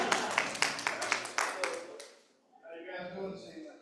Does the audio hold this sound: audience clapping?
yes